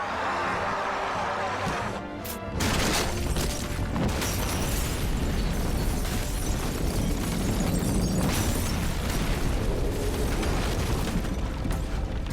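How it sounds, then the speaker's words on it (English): A house gas explosion from the werewolf film Dog Soldiers bursts in after a brief lull, followed by a loud, sustained roaring blast and rumbling debris for about ten seconds. "the sweet satisfaction of burnt werewolf flesh in a house explosion"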